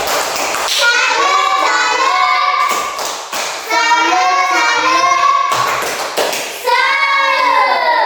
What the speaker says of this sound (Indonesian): tepuk tangan dulu untuk salut dulu untuk Cynthia